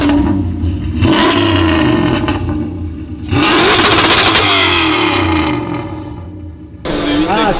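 A Nissan Skyline R33 with a Lexus LS400 V8 engine swap revs hard and close, its roar rising in loud sustained bursts separated by short dips, with voices briefly heard alongside.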